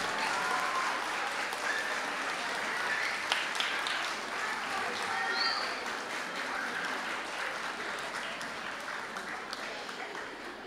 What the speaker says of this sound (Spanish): El aplauso para el primer puesto, por favor.